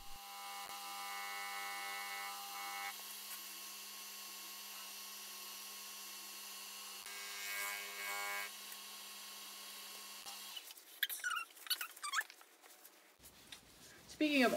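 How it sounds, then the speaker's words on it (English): Steady rubbing and buffing by hand with abrasive sanding paste on a live-edge maple bowl blank, a continuous abrasive scrub over a low hum, ending in a few louder scraping and clattering handling noises. "And now I'm doing Brad's abrasive sanding paste"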